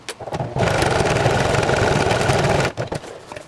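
A sewing machine stitching slowly through the thickest strap section of a vest kit, a close steady mechanical chatter for about two seconds between short quieter starts and stops.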